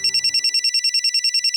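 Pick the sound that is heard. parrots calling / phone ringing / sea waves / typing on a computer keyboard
phone ringing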